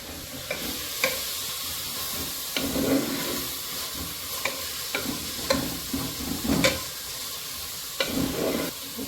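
Tomatoes, salt and turmeric stirred in a hot pan for a crab sukka, a steady sizzle broken by repeated scraping strokes of the spoon, close and without talk.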